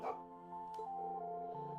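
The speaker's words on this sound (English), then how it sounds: "Oh, is Ash hanging out with the dog?" A big dog barks in Trails Into Reverie, a single short bark at the start over a sustained tonal game music bed.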